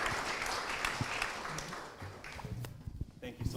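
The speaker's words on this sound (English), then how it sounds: "Please give me a round of applause for these wonderful speakers." Audience applause for panel speakers at a conference on governing AI, a quiet, fairly distant clapping that thins and becomes patchier toward the end.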